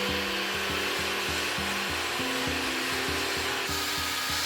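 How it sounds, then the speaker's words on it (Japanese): A slide circular saw cuts wooden boards to length in a rapid rhythmic series of buzzing strokes, loud and close throughout. "長さもスライド丸ノコで切り揃えました。"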